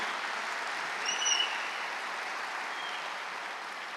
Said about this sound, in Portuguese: queria pedir uma salva de palmas muito sincera e muito forte para o Jordão